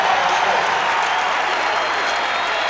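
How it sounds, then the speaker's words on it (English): Dense, roaring crowd cheering fills a basketball arena at Ohio State during a 1996 game against Indiana, steady and loud throughout with no pauses. "And the crowd loving every second of it right now."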